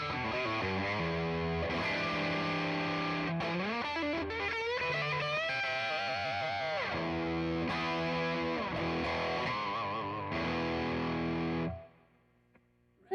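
Electric guitar played through a Rat distortion pedal with a touch of spring reverb, thick sustained distorted chords and a bending lead line, ringing loud before the final chord fades out.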